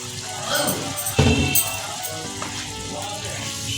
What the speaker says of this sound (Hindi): अब हमने इसको थोड़ा सा भून लेना है।